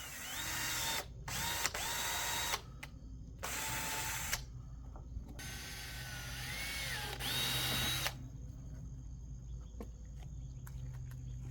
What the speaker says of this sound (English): Now that I got the holes drilled in the flare